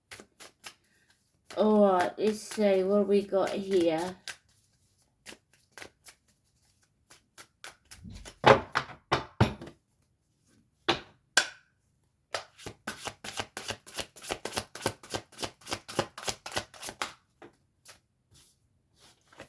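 A brisk riffle of playing cards being shuffled, with quick rhythmic snaps and clicks, close by, following someone speaking briefly.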